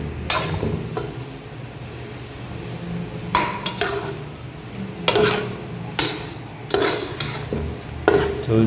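Boiled potatoes are stirred into frying masala in a pan, the spoon clattering against metal in repeated sharp knocks over a low sizzle, close and fairly loud, without speech.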